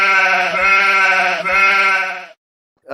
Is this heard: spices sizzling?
no